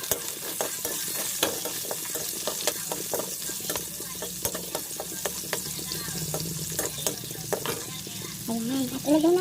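Onion and garlic frying in a pan for chicken estofado give a steady, close sizzle, with frequent scraping stirs and utensil taps and a brief voice near the end.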